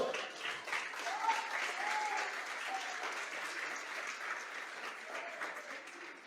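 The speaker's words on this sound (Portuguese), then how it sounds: "Você pode aplaudir ao Senhor?" A church congregation claps during a sermon, a sustained round of applause that is fairly soft and distant, with a few faint voices rising through the clapping.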